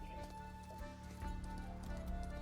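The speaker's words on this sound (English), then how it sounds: "I love that you can hear the galloping" Galloping hooves of an axe beak creature pulling a cart in a fantasy tabletop game scene, a steady quiet clip-clop rhythm under a low music and ambience bed.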